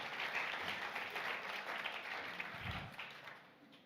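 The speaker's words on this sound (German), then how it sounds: "Einen herzlichen Applaus" Steady audience applause in a hall after a talk on marriage, a soft continuous patter of many hands at moderate distance that gradually fades toward the end.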